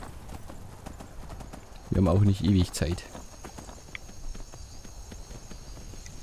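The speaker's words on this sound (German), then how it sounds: "So, jetzt reiten wir schneller." Horse hooves in the game Skyrim as a rider speeds up, a short burst of heavy rhythmic thuds of about a second standing out over quiet game ambience, with someone talking over the footsteps.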